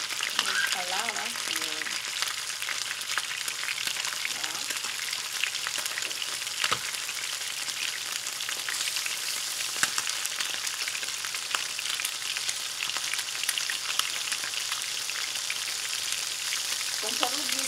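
Lard sautéing in a pan sizzles steadily throughout, a dense, even frying hiss at close range with occasional crackles and stirring noises, and no talk over it.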